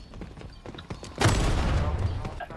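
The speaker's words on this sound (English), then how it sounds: "Somebody's shooting at us." Gunfire in the Rogue Company video game breaks out as a sudden loud, dense burst that sustains to the end, preceded by scattered quieter pops and clicks.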